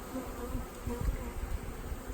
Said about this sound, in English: That one is loaded with bees.